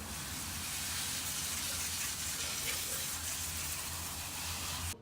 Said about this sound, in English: I sprayed it with water.